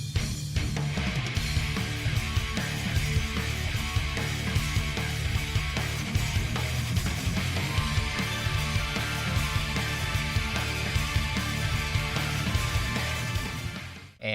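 Video game battle music, Valentine's regular battle theme, plays loud and continuous with a dense, full mix that runs steadily for the whole stretch.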